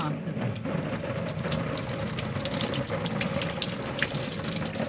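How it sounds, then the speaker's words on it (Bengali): Water splashes steadily onto a screen, a continuous hissing spray and patter running for the whole stretch, with voices now and then underneath. "স্ক্রিনটা ঘুরিয়ে ওই পিঠেও জল দে।"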